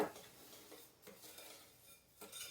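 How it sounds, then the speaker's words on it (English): A spoon stirs a cheesy chicken and broccoli casserole mixture in a dish, giving soft, faint scraping and clinking strokes in a quiet kitchen. "Just stir this up so it's nice and coated."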